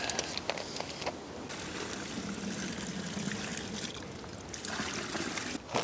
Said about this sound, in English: Fill hole up to a third of the depth with clean water.